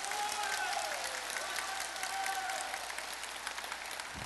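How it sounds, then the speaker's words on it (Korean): An audience claps at a book launch, a broad, sustained wave of many hands at moderate level that continues evenly to the end, with a brief tonal squeal early on and no speech. "공감하시면 박수 한번 쳐주시기 바랍니다."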